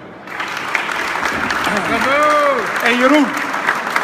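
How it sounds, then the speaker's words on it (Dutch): Applause at the opening of a 3D makers zone in Haarlem, a room of people clapping steadily while a voice calls out over it and someone speaks. "ik zou voor deze 2 mannen wel dat applaus willen vragen"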